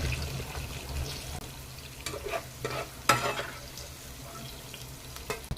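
Onion and garlic sautéing in a pan for an eggplant curry, soft sizzling under occasional scraping stirs of a spoon, fairly quiet and close, with a few sharper clinks.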